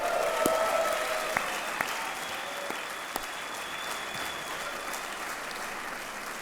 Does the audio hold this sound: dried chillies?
no